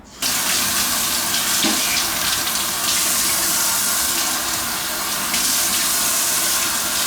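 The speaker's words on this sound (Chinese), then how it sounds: "稍微冲洗一下哈" Tap water runs steadily and loudly into a sink as marinated chicken is rinsed, a continuous close splashing stream from start to finish with no talking.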